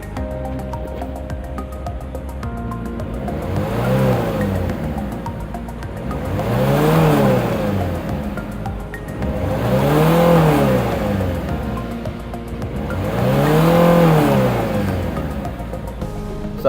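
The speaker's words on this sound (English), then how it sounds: "I'm just going to show you what it's revving like now." Citroen C3 engine, freshly carbon cleaned for EGR issues, revved three times in a row, each rise and fall swelling loud and close over a steady idle, with no talk.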